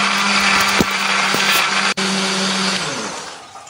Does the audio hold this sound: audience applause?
no